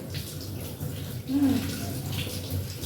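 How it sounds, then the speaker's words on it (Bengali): Fish being washed under a running tap at an outdoor washing spot, with a steady rush of water splashing throughout and a brief louder gush in the middle. "মাছ নিয়ে চলে এসেছি কলতলায়। এই ধুলাম মাছগুলোকে"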